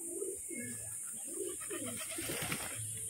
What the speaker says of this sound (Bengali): পায়রা রয়েছে।